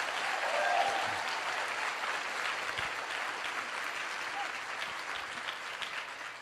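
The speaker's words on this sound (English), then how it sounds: "Give yourselves a round of applause." An audience claps in sustained applause at a motivational speaking event, a dense steady patter of many hands heard from a moderate distance, filling the whole moment without a break.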